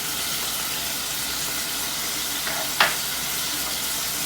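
Tomatoes and cayenne pepper hitting hot oil in a kadhai over medium-high heat, giving a steady, broad sizzle with a brief louder crackle and splash partway through.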